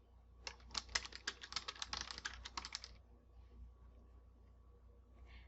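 A message template being typed on a computer keyboard: a quick, dense burst of close key clicks for about two seconds, then quiet room tone.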